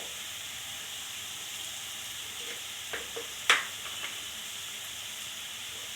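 Potatoes frying in a pan and being stirred, a steady soft sizzle and hiss with a few light scrapes and clicks of the spoon partway through.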